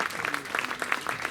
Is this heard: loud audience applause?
yes